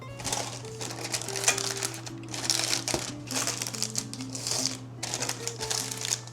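Parchment paper crinkles and rustles as it is pressed into a loaf pan for a pumpkin streusel bread, several short, close crackling bursts over a steady low background hum.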